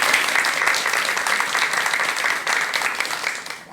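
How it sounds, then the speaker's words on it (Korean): An audience applauds to welcome a lecturer to the stage, a dense, even wash of clapping that stays loud throughout and fades slightly at the end. "여러분 큰 박수와 함께 전현수 박사님의 강의 들어보도록 하겠습니다"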